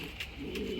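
Racing pigeons at the loft after a 200 km race give a low, continuous cooing murmur, with faint flutters and no voices.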